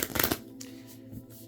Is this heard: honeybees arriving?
no